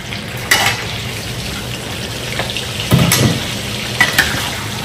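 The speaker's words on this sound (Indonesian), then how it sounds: "sekarang kita goreng dulu dagingnya." Beef frying in hot oil for soto Padang, cooked until dry and crisp: a steady close sizzle with a few sharper bursts of spattering and stirring, and no talking.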